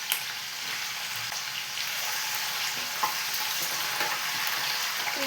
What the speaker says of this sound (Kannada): ಫ್ರೈ ಮಾಡ್ತಾನೇ ಇರಬೇಕು, ಹಂಗೆ ಬಿಟ್ಬಿಟ್ರೆ ಸೀದೋಗ್ಬಿಡುತ್ತೆ